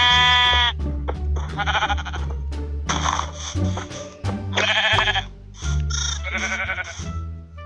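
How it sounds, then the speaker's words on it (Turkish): Sheep in the Minecraft video game bleat repeatedly, several loud wavering calls in quick succession separated by short gaps, with no talk over them. "İki tane koyun çıktı."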